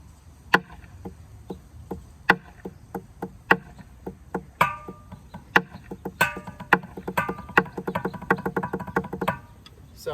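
Sharp percussive drum strokes in an uneven pattern, deliberately alternating loud and soft hits, starting sparse and slow and growing denser and faster toward the end.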